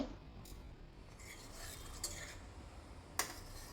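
A spoon quietly stirs a pinch of yellow food colour into a kopra pak coconut sweet mixture, with soft scraping and a few light metallic clinks against the pan.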